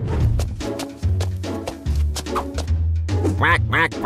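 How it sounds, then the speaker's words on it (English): A cartoon duck quacks in a lively run of repeated, nasal calls over background music, the quacks growing brighter and more rapid toward the end. "Quack, quack, quack."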